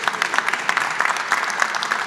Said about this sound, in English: A little applause for San Francisco.